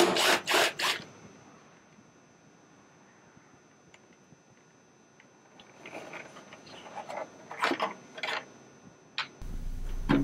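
Screws being backed out of a plastic underseat storage bezel on a Dodge Ram Quad Cab jump seat frame, with a few sharp ticks up front, a quiet stretch, then scattered clicks and rubbing scrapes building toward the end.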